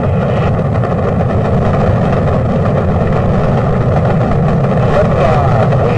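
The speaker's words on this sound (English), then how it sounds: "All engine running." The Apollo 11 rocket engines roar at launch as a loud, dense and unbroken low rumble that holds steady the whole time with no pauses.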